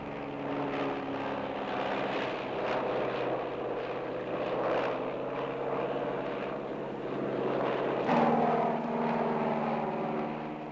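U-10B propeller aircraft droning steadily overhead, a continuous engine hum with a shifting tone that changes pitch near the end, moderately loud and alone.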